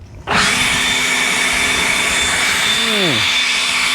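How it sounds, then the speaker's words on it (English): A battery-powered leaf blower starts up abruptly and runs with a loud, steady high whine and rushing air, its pitch dipping briefly near the end as it is moved. "Guess we'll start with the old leaf blower."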